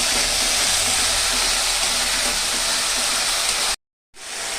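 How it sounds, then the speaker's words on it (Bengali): Spice masala for egg curry fries in a pan with a loud, continuous close sizzle and hiss that cuts off abruptly, then resumes. "মশলাটা ভালো করে ভাজবো।"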